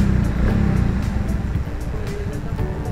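A 2020 Suzuki Raider J motorcycle accelerates on a test ride, its engine a loud, continuous buzzing drone mixed with heavy wind rush.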